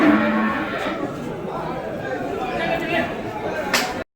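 Cattle at a busy market in Vaniyambadi, with native calves and cart bullocks among the stock, heard through a loud crowd murmur, with an occasional low moo and scattered knocks before an abrupt stop.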